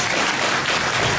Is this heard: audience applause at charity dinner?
yes